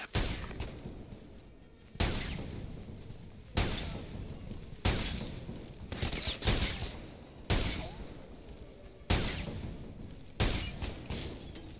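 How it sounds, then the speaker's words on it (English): Bursts of hostile gunfire in Ghost Recon Advanced Warfighter 2 crack out in repeated loud volleys roughly every one to two seconds, each decaying into rumbling battle noise. "Captain, taking hostile fire!"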